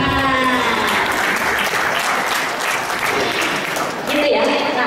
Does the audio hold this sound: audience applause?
yes